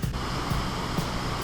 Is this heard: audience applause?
no